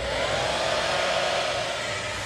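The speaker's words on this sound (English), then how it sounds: "this hair dryer won't run at full capacity" Hair dryer running on low fan and low heat, a steady airy whoosh with a constant motor whine, close and unbroken, nobody speaking.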